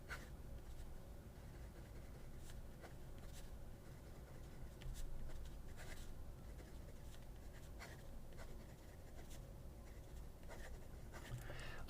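A JOWO fine-nib fountain pen moves across paper with a very quiet, crisp, smooth scratching in short strokes, faint and close.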